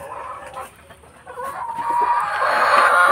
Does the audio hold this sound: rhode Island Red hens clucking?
yes